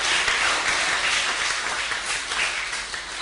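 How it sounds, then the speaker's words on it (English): Dense, sustained applause fills an indoor hall at a student society and volunteering awards ceremony, a steady, even roar of many clapping hands with no talking over it. "I reckon he deserves a round of applause"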